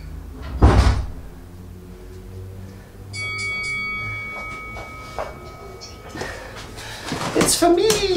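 At home, a door is opened to answer a caller: a heavy thump and handling noises, then quieter rustling and later clattering, with a person talking throughout.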